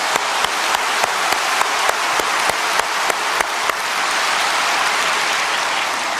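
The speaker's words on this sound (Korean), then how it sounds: "아예 한번 힘차게 박수 칩시다." A church congregation applauds during a sermon, opening with loud, evenly timed rhythmic claps that run for about four seconds before loosening into a dense, steady wash of applause.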